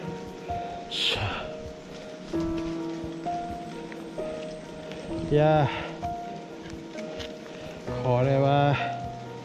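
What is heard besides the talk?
rain falling on a mountain trail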